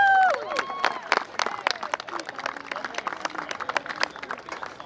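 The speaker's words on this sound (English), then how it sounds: "Give a round of applause." Crowd applauding a senior track and field athlete at a team spotlight event, scattered sharp claps building into a dense patter after a brief voice at the start, with faint chatter mixed in.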